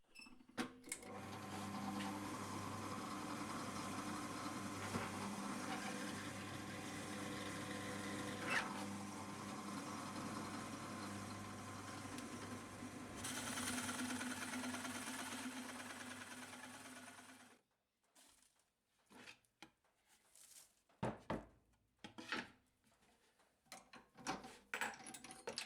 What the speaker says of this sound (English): Using the larger of the 2 Forstner bits, I want to drill about halfway into the timber.